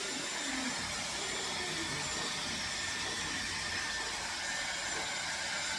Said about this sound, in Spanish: Aunque este secador hace muy poco ruido.